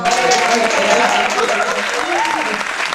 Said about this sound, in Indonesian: Tepuk tangan buat anak.